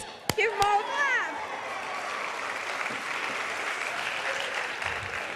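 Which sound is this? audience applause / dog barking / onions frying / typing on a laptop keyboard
audience applause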